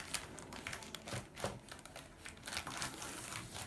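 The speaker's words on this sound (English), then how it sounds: "So you carefully put the egg carton into the plastic bag" Crinkling of a plastic bag as an egg carton is slipped inside it for a painting project, a close, busy stretch of rustling and crackling with short sharp bursts and no talk.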